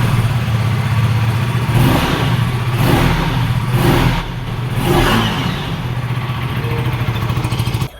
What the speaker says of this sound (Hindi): तो जल्दी से स्टार्ट करता हूँ इस बाइक को और आपको सुनाता हूँ कि साउंड किस तरीके